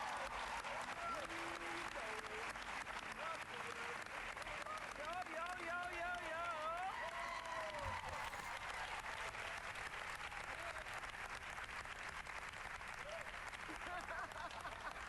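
A crowd applauds a $100 million education grant with a steady, distant wash of clapping, while a voice talks over it partway through.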